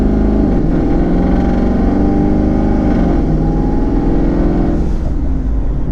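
A loud twin-turbo 2019 Ford Mustang GT engine on drag wheels and tires runs hard and steady, its rumbling tone climbing slightly as it accelerates, then easing near the end.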